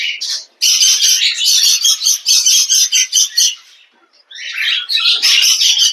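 Budgerigars and their chicks chirp in dense, rapid bursts close by. The chatter is loud and continuous, breaks off briefly, then resumes.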